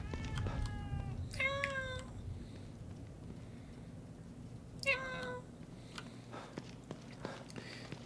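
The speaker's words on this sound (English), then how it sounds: "Cat is important. Cats are very important." A cat in the horror video game The Evil Within 2 gives two distinct meows a few seconds apart, close and clear over a low ambient hum, with soft whispering talk around them.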